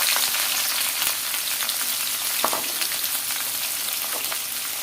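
Onions and garam masala frying in a pan beside softly fried egg, a dense, close, steady sizzle with light crackles and a few stirring knocks, no speech.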